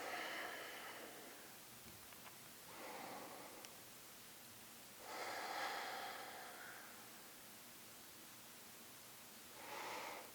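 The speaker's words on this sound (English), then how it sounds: "And breathing for a few breaths." Soft, slow breaths drawn and released during a hip-opening yoga stretch: four faint, airy swells spaced several seconds apart over quiet room hiss.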